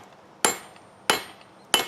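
Hammer blows on a hot Damascus steel forge weld, three sharp ringing metallic strikes spaced evenly about two-thirds of a second apart, close and loud with no talking.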